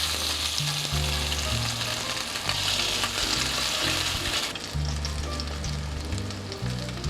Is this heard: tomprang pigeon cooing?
no